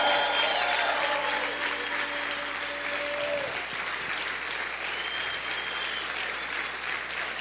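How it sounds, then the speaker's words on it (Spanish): A church congregation applauding loudly during a Spanish-language sermon, a continuous wash of many hands clapping, with a sustained tone fading out partway through. "Vamos a gritar y vamos a aplaudir fuerte al Señor."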